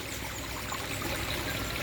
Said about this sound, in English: It's an L-shaped tube and flows out into this tank into the center canal